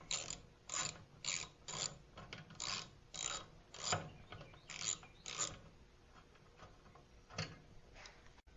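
A 3/8 inch bolt is backed out of a small L-head engine near the carburetor with a ratchet, making a quiet, close run of rapid clicking strokes in short bursts, then slowing to a few final clicks.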